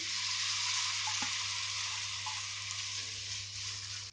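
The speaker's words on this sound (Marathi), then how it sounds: "तेल तापलें तशें आमी गोड घालुया तातूंत।" Jaggery fries in hot oil in a pan over a gas flame, giving a steady, close, even sizzle with faint scraping from stirring.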